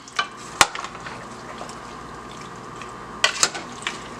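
A spoon stirs a pot of cooking food on the stove, giving a few scattered scraping knocks over a steady low simmering hiss, with no talking.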